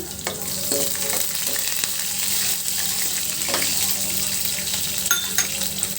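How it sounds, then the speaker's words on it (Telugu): Small onions frying in a pan for a sambar, a constant close crackling sizzle with occasional spatula scrapes and taps against the metal, and no voices. "ఇలా మనం చిన్న ఉల్లిపాయలు కూడా వేసుకొని ఫ్రై చేసుకుందాము."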